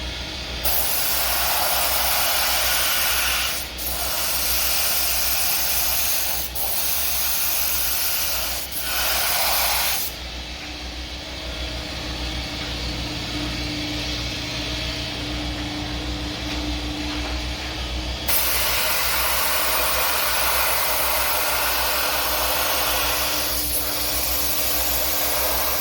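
An air compressor runs steadily for a long stretch, a constant low mechanical hum with hissing noise over it, loud and fairly near, with no one speaking.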